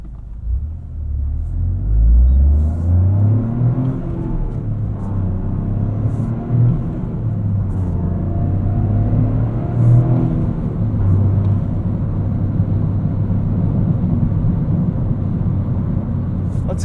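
2023 Toyota GR Corolla engine revving and rising during manual rev-matched shifts on a street drive, a loud, close cabin rumble with engine tones climbing and falling across several gear changes.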